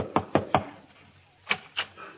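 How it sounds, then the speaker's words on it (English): Radio-drama door knock: three quick, close raps, a pause, then two more spaced knocks, alone with no voices. "there was a knock at the door"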